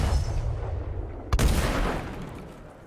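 A cannon in the game ATLAS launches an explosive barrel with a single sharp, loud blast that rolls off into a fading rumble, over a steady low background drone.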